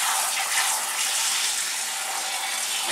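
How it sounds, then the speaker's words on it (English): Tap water pours steadily into a cooking pot in a kitchen while yam is prepared, a constant close, bright rushing hiss with no breaks and no talking. "I'm going to fill up the pot with water and then send it boiling"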